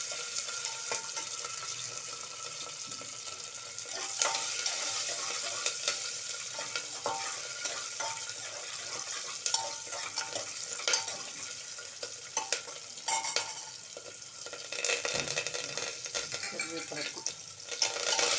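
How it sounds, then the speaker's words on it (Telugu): Cashews frying in a pan for rava pongal, a soft continuous crackling sizzle with occasional light stirring clicks and pan scrapes, no talk. "జీడిపప్పు వేసుకొని పెట్టుకోవాలి"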